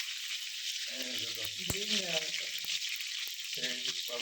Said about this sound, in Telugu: పచ్చిమిరపకాయ అబ్బా బాగా చిటపడని ఎర్రగా వేగాలి